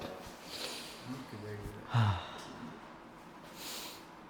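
A person takes a deep breath during a chiropractic treatment, with a sharp audible inhale and sigh-like exhale close up, and soft voices and faint movement around it.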